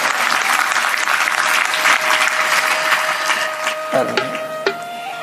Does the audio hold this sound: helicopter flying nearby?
no